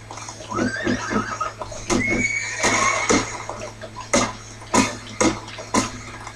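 A horse whinnies in the Lone Ranger video game, a rising neigh followed by a series of sharp percussive hits and short bursts over a steady low hum, close and fairly loud, with no talking.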